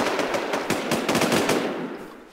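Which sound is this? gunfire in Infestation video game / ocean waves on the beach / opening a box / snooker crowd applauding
gunfire in Infestation video game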